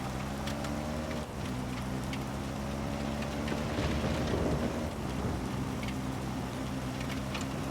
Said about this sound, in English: It's pretty cool though to see how much the environment really does change though once you have this rain coming down.